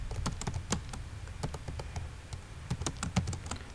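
Rapid keyboard typing while writing HTML paragraphs, a steady run of close, crisp key clicks with a few louder strikes, no voices.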